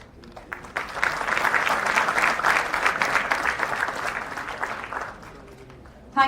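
Conference audience at a pharmaceutical research event applauding an honoree who receives a sapling; scattered claps build into a full round of applause, then fade out near the end before a brief sound.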